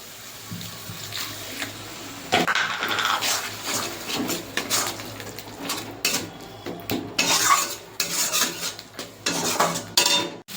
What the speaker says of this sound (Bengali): আর দিয়ে দেবো জিরে বাটা মশলাটা একটু জল দিয়ে ভালো করে কষিয়ে নেব